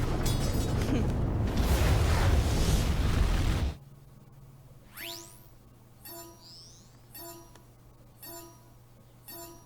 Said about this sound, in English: Very pretty series of explosions